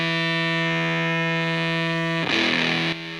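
Electric guitar through a fuzz pedal, switching between neck and bridge pickups: a sustained, heavily distorted buzzing chord rings loud and steady, then a fresh brighter strum cuts in near the end.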